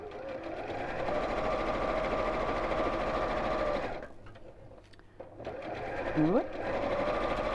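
A domestic sewing machine hums steadily up close during a live sew-along, pausing briefly mid-way before resuming, with people chatting over and around the motor noise.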